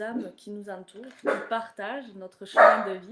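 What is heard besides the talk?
dog barking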